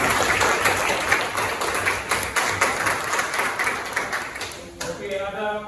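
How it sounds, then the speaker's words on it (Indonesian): Classroom applause for a student, a steady wash of many hands clapping close by, continuous and fairly loud before cutting off near the end as a voice begins to speak. "Tepuk tangan untuk Paula."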